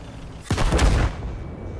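A single heavy tank cannon shot booms in the World of Tanks game, a sudden loud blast followed by a rumbling decay lasting about half a second.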